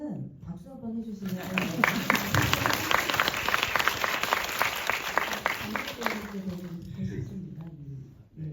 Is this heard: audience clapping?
yes